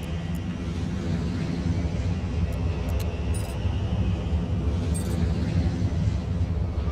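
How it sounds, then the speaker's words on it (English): Airplanes at an airport in the video game SimAirport make a steady, dense engine rumble that holds evenly throughout, with a few faint higher tones on top. "These planes are leaving late"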